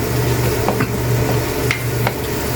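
Carrots and potatoes sizzle steadily in a hot pan with constant crackling, with a few soft scrapes of stirring. No one speaks.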